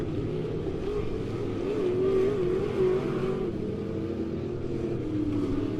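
Dirt track race cars roar around Bolivar Speedway in a steady, droning engine wash, with pitch rising and falling as the cars accelerate out of the turns, heard at mid distance, with no clear talk.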